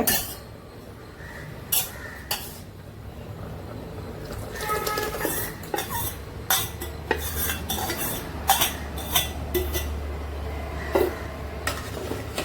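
Cooked dal being poured into a pot of sambar with drumsticks and stirred, heard as metal utensil clinks and scrapes against the pot, irregular knocks and a low rumbling pour, close and fairly loud.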